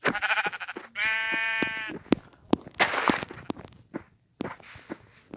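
A grey-black sheep in a video game bleats sharply when struck, between quick footstep-like thuds and clicks, with another bleat-like cry later; close and clear with no speech.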